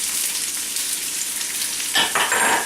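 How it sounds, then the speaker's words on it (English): Julienned leek hits a hot pan and sizzles loudly, a steady frying hiss that flares into sharper crackling near the end, with no talking. "So I'm going to put my leek in this pan."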